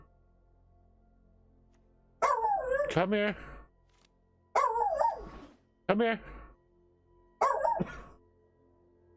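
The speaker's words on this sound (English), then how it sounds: "Dog. Dog." Dog barking in a home, four loud bursts of bark and howl spaced a couple of seconds apart over a quiet hum, with a person calling between them.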